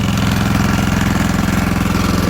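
An engine idles steadily while warming up outdoors in snow, a loud close chugging pulse with a rapid, even rhythm and exhaust rumble, no voices.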